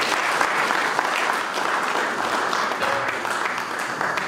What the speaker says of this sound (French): Acclamons-les très fort.